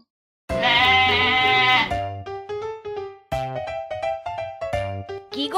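Cartoon goat kid bleating in a quavering, high voice, a long cry followed by a run of shorter, stuttering bleats, close and loud with no other sound.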